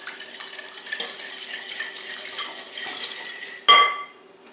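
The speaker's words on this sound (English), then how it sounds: "Whisk it in." An egg is whisked into cinnamon roll dough mixture in a bowl, a continuous close scraping whirl of the whisk that ends with a sharp metallic clank, then quiet.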